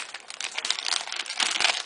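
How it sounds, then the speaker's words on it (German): A plastic grow bag of king oyster mushroom substrate is cut open: faint, close crinkling and rustling of plastic in uneven bursts, with no talking. "dann müssen wir diesen Sack aufschneiden"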